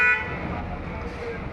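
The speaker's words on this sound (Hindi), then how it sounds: "मैं अगर यहाँ पे ब्लॉग बनाती हूँ तो समझ लो गाड़ियों की इतनी आवाज़ आती है" Road traffic near a roadside spot, with a car horn tooting briefly at the start over a steady rumble of passing vehicles.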